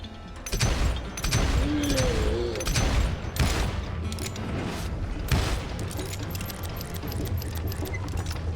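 Gunfire in the Western shooter game Call of Juarez: Gunslinger during a boss fight: repeated loud revolver and rifle shots with booming impacts over a dense, noisy battle soundscape, and a few brief voice cries mixed in.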